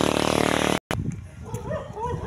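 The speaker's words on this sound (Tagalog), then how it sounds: "Okay, maraming aso." Several dogs bark outdoors on a street walk in the Philippines, heard after a loud rushing burst, with short yips and barks at mid distance under background noise.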